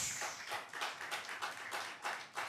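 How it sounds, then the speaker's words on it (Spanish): A church congregation claps in a fairly quiet room, with individual claps loosely bunched in rhythmic bursts and no talk over them. "Siéntese y déle un aplauso a nuestro Dios."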